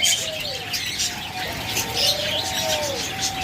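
A crowded aviary of lovebirds, java sparrows and budgerigars chirps and tweets continuously, with overlapping high calls, thin whistles and some soft cooing and wing flutter, close and lively.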